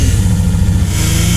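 A supercharged AMR500 Mirage dune buggy with a 1.2L engine, making around 7 psi of boost, revs loud and close, a continuous mid-pitched roar that climbs slightly toward the end.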